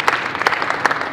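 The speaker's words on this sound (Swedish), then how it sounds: "applåd till allihopa" A short burst of dense clapping from a small group after padel play, steady and close for about a second with no speech over it.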